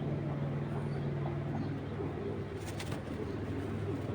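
High-flyer pigeons coo softly in low, repeated throaty calls against a steady background hum, close by and fairly quiet.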